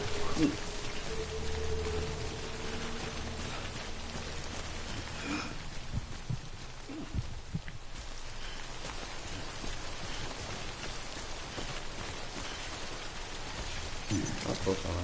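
Heavy rain falls in the video game Death Stranding, a constant broadband wash of droplets holding at a fairly loud, even level for the whole stretch.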